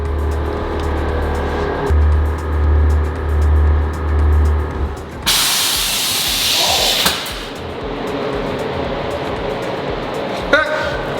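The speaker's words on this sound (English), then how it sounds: "Thing just aired itself out." A lifted truck's air suspension aires out with a loud, broad hiss of escaping air lasting a couple of seconds, following rumbling engine and mechanical noise, with voices nearby.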